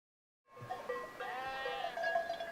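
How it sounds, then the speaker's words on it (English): Goats and sheep grazing on the hills of Judea, with several overlapping bleats and calls rising after a brief silence and continuing steadily at moderate loudness. "In Judea today, sheep and goats are still grazed in the hills."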